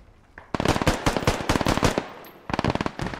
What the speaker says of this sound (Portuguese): as balas passando perto